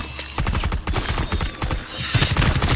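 Burst gunfire in Rainbow Six Extraction, a rapid run of loud, close shots in quick rhythmic succession, pausing briefly and then resuming.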